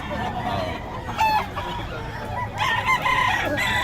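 Roosters at a chicken market in Bocaue crowing and clucking loud and close, a drawn-out crow arriving in two bursts over a crowded, murmuring background.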